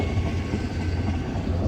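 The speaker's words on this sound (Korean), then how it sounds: "방금 저 기차가 지나가네." A train passes near a roadside in Korea, a steady, loud rumble with low rolling wheel noise that holds constant throughout.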